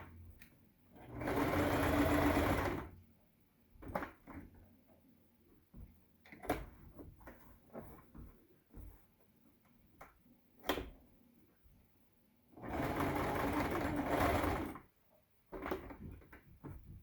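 A sewing machine stitching a dress runs at full speed in two loud steady whirring bursts of about two seconds, separated by quieter clicks, handling and fabric rustles between runs.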